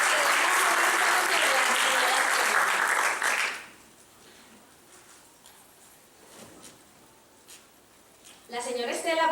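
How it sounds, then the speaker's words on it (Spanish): Event audience honoring the Abuelas de Plaza de Mayo breaks into loud, dense applause that stops abruptly after a few seconds, followed by quiet room noise, a few scattered claps, and a voice starting to speak at the end. "un fuerte aplauso nuevamente"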